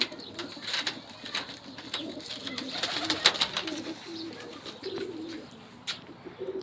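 A white Basrawi pigeon coos in soft, low, repeated murmurs, close but quiet, over a faint bright hiss of background noise.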